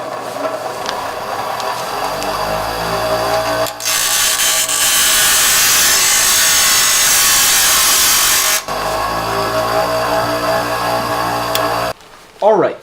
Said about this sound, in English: We're gonna go and hit the grinder.